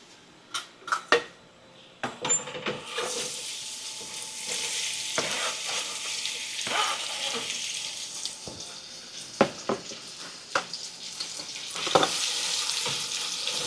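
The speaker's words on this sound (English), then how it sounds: "So we're leaving this to fry up." Chicken vindaloo ingredients fry in hot oil in a pot, giving a continuous close sizzle broken by sharp knocks and clatters of utensils against the pot, with no voices.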